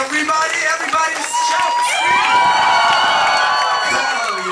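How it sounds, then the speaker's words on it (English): Concert audience at a tribute show cheering, whooping and shouting loudly all at once, a dense sustained roar of many voices with some clapping mixed in. "Now give a round of applause for yourselves"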